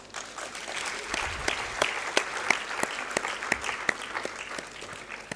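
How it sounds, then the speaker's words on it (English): An audience claps steadily in applause at a procurement and supply chain heads forum, a dense continuous patter with a few sharper individual claps standing out, no voices over it. "And a round of applause."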